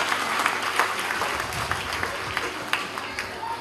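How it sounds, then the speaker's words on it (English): A school audience gives a program's presenters a round of applause, with dense, continuous clapping from a crowd filling the room at moderate loudness, with crowd murmur mixed in. "Please give them a big round of applause for their efforts."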